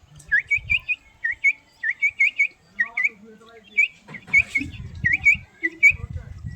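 A person whistles an imitation of chicks chirping happily while feeding: quick bright peeping notes in short clusters of two or three, repeated steadily and close, with low rumbling noise in places.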